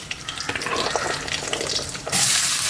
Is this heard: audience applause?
no